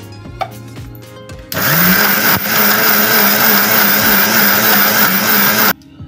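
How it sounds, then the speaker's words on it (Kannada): A kitchen mixer grinder blending roasted horse gram masala with water, switching on after a quiet moment into a loud, steady high-pitched whirring whine that runs several seconds before cutting off abruptly. "ರುಬ್ಕೊಳ್ಳೋಣ ಮಿಕ್ಸಿ ಜಾರಿಗೆ ಹಾಕಿ."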